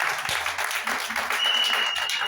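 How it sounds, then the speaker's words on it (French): A church congregation applauds its youngest member, a burst of steady clapping from many hands in a room, fairly close and continuous, with some voices underneath. "On va acclamer le plus jeune de l'église."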